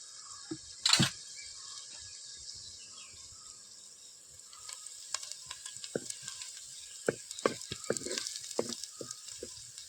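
Curry leaves and garlic paste hit hot oil with asafoetida in a pan, a loud burst of spluttering that settles into a steady sizzle with stirring clicks and scrapes, close up, no one talking.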